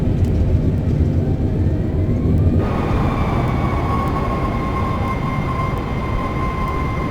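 Reverse thrust roars from a landing airliner in a flight simulator game, a loud steady rumble that swells partway through with a rising whine layered on top, continuous and close with no talking.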